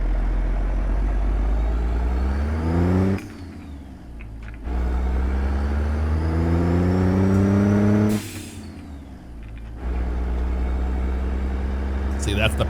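A CAT C-15 engine in a Peterbilt 389 truck in a driving video game, its loud engine drone rising in pitch through gear pulls with brief drops between shifts, running steadily throughout.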